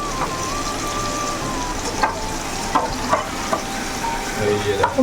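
Onion and tomato fry in oil in a pan, giving a steady close sizzle with occasional light scrapes and clinks of a stirring utensil.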